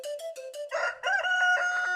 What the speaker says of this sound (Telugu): అల్లగో ఆ కోడి.